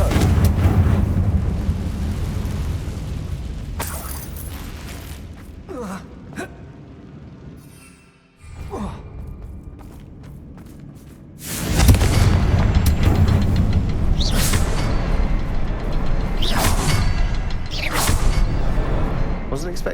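A Confringo blasting spell in Hogwarts Legacy sets off heavy, rumbling booms, with one loud broadband blast that swells after a near-silent dip, set among game effects and background sound.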